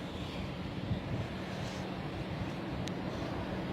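Steady broadband aircraft engine noise at London City Airport, a continuous distant roar with no voices, holding a constant level throughout.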